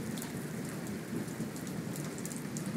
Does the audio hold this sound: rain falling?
yes